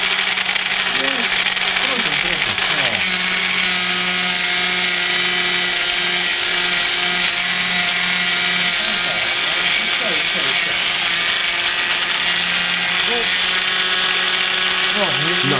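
A power drill cuts into a wooden wheel for a model cannon carriage, a steady whining drone with a wavering, rising and falling pitch, running continuously up close with no voices.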